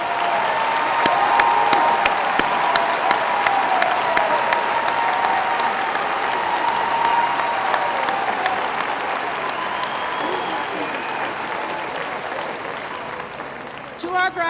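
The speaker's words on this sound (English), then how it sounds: "Let's give a round of applause for their outstanding achievements." Sustained applause for graduates from a large crowd, with individual claps popping through a steady roar and voices murmuring underneath. It fades gradually toward the end.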